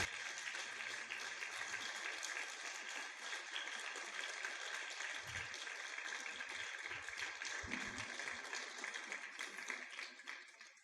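Sustained applause from a church congregation fills the whole stretch, a dense even wash of clapping that fades slightly at the end.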